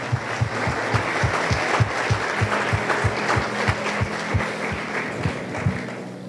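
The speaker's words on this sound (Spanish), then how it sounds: "alguien le puede dar un aplauso al Señor" A church congregation claps in steady rhythmic unison for several seconds during a Spanish-language Christian sermon, the beats evenly spaced and fairly loud with a roomy crowd wash behind them.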